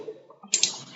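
A single computer mouse click, a short sharp tick after a faint quiet stretch, close and clear.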